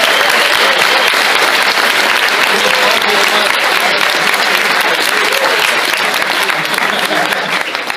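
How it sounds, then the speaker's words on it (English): A crowd at an Absolut Vodka collectors meeting in Åhus gives loud, sustained applause, a thick wash of clapping with scattered sharper claps that stays strong throughout before dipping at the very end. "So I think we should give a big applause for Alexandra."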